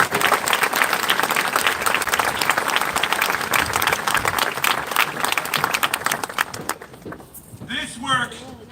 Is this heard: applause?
yes